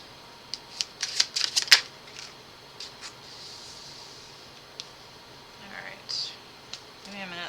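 A quick flurry of crisp tarot card-shuffling riffles, followed by sparse soft taps and rustles of cards being handled in a quiet room.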